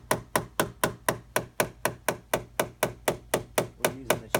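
Rapid, even metallic tapping of a blending hammer on a dented Mercedes car door during paintless dent repair, about four strikes per second, close and sharp, continuing steadily throughout.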